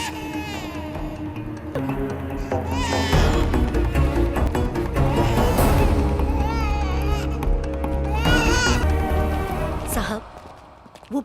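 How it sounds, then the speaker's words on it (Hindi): A baby cries loudly and close in a village scene from the Indian film Ruler, wailing in long sustained bursts over background music, with other voices mixed in. "वो बस वहाँ एक बच्चा रो रहा था।"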